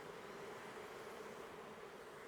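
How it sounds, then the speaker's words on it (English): A steady, dense insect buzz from many bees, fairly quiet and continuous throughout, with no voices. "there's a ton of bees on the side here"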